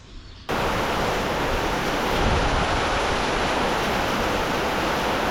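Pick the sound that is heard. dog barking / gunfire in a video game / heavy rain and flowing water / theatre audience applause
heavy rain and flowing water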